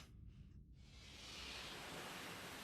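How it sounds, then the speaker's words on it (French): A broad, steady rush of ocean waves swells in after a brief quieter moment and then holds as a soft, continuous surf hiss. "On dirait le bruit des vagues."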